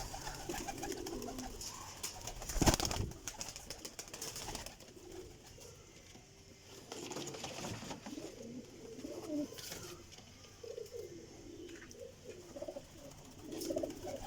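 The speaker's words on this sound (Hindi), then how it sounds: "ਇਹ जनाब कबूतर है जोड़ियां वाला चपड़ा, प्योर चपड़ा कबूतर जे जोड़ियां वाला।" Pigeons of the Chapra breed kept in pairs coo softly and intermittently, low murmuring calls repeating at close range over a rustling background, with a sharper knock or flutter near the start.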